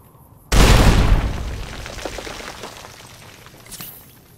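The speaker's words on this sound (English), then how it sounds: "Not the brightest idea to shoot something explosive right in the face" An explosive object shot in Fallout New Vegas bursts with a sudden loud boom after a short quiet moment, then rumbles and crackles as it slowly fades, with a smaller pop near the end.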